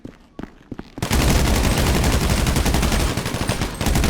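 Heavy gunfire in GTA 5 Online bursts in after a few scattered shots and brief speech, then holds as a loud, continuous barrage of overlapping rapid shots.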